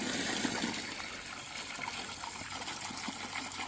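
Water runs and trickles steadily at low volume, a continuous soft wash with no voices.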